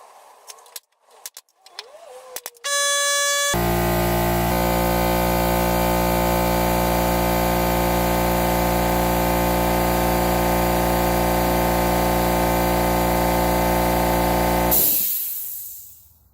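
Air compressor in a workshop kicking on after a few knocks and clatters, then droning loud and steady with a strong low hum for about eleven seconds before shutting off with a hiss of air.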